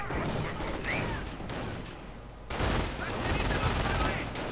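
Dense gunfire crackles through a World War II video game battle, with MG 42 light machine guns and MP40 submachine guns firing in overlapping bursts. Someone talks over the steady, loud clatter.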